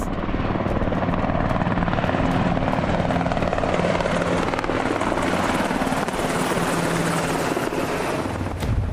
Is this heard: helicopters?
yes